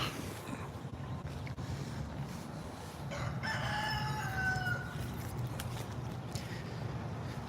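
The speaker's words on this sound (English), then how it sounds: "I'll go look at the chickens." Rooster crowing with a few chicken clucks in a garden, the crow rising clearly mid-clip over a steady low outdoor rumble, moderately distant.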